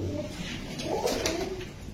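A white Lotan pigeon gives a soft, low cooing, close but faint, over a steady background murmur in a short burst.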